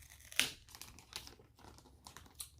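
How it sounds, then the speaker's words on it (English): Clear packing tape is peeled slowly off a plastic bag on a collector statue box, giving crinkly, tearing plastic rustles with a sharp burst near the start and softer crackles after, close and quiet. "to get like an angle here where I can pull the tape without ripping it."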